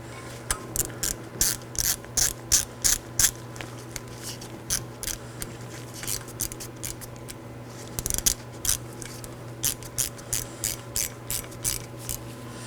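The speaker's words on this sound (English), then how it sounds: "I'm going to hand tighten this with my ratchet and T30 bit." Hand ratchet with a T30 bit snugging a rotor set screw during a front brake job on a 2018–2024 Chevrolet Equinox; quick clicking pawl bursts in short rhythmic runs, close and crisp, with brief pauses between strokes.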